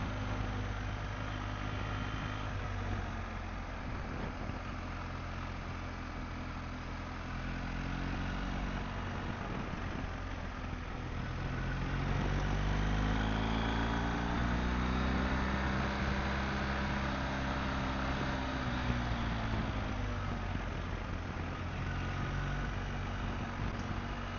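A motorcycle ridden through bends on a day trip from Bucharest toward Cabana Voina, its engine droning steadily with wind rush, rising and falling in pitch as it works through the curves.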